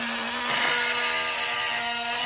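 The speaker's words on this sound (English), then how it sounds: "Now let's see what happens when we drill PLA." A drill motor whines steadily while the bit grinds through PLA plastic, rising briefly in pitch and roughness as it bites, then settling back to the hum.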